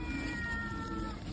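A hungry cat trapped in a shop gives a single faint, drawn-out meow, heard quietly without any talking.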